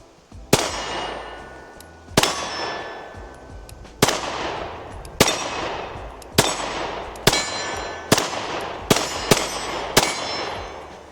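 A compact Shield X handgun fires at a range, about ten sharp, loud reports spaced unevenly at first and then coming faster, each one ringing briefly.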